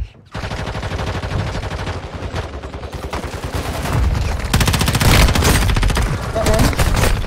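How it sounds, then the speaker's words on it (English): Sustained automatic gunfire in the mobile shooter game Warzone Mobile, loud dense bursts of rapid shots running almost continuously and growing heavier toward the end. "Someone else is shooting from somewhere."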